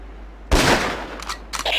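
Sniper rifle shot in the Ghost Recon video game: a sharp, loud crack bursting out of low hum, decaying into a rolling echo, then a few quicker smaller reports near the end.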